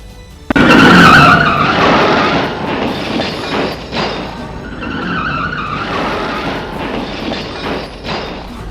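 A car strikes a motorbike as it turns on a road in Jaipur, Bankura: a sudden loud crash bursts in about half a second in, then a sustained rumble and skidding noise continues at fairly steady loudness with no talk.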